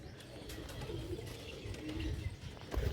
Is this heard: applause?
no